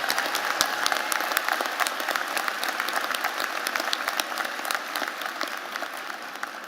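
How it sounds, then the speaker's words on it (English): Sustained audience applause at a university commencement ceremony honouring master's degree graduates, with dense continuous clapping from a large crowd at steady loudness throughout. "Let's give these scholars one more round of applause for this significant accomplishment."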